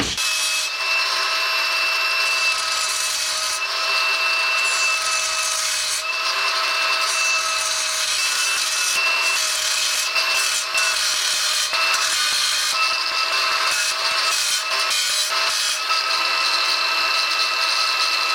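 A wooden board is cut to size in a workshop with a power tool, a loud, sustained whining cut with steady pitch that continues with brief shifts for about eighteen seconds.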